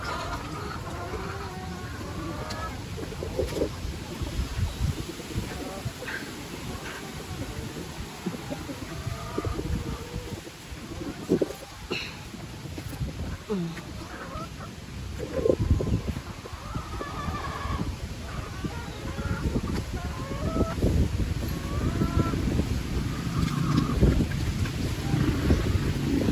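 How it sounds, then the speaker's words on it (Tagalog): Strong wind buffets the microphone in rough, rumbling gusts for a long stretch, with faint animal and bird sounds now and then. "Grabe talaga ang hangin."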